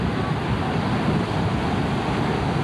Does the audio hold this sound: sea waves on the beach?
yes